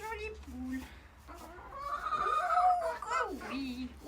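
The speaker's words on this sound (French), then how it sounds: "C'est une jolie poule." A hen clucks in short bursts near the listener during winter grooming before riding, with someone talking over and between the calls.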